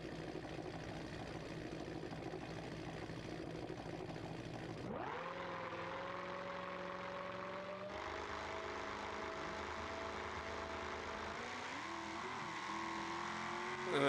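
A Jeep Trackhawk in a BeamNG.drive drag race idles with a steady, loud roar, then launches about a third of the way in, its engine note climbing and shifting steadily as the car accelerates hard down the strip.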